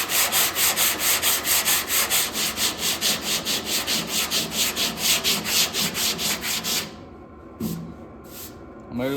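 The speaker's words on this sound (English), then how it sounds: "Just keep sanding down here a little bit." Rhythmic block sanding on a C10 pickup truck tailgate panel, a rapid series of regular rasping back-and-forth strokes, close and loud, which stop abruptly near the end, followed by a quieter pause and a few scattered scuffs.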